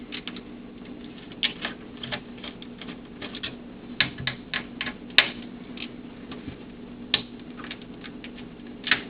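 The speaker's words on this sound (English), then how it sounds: "Let's continue taking these screws out here." A Super Nintendo SNES console being taken apart, with screws removed one after another: small, sharp metallic clicks and ticks of a screwdriver and loose screws, scattered irregularly, close and fairly quiet over a low background hum.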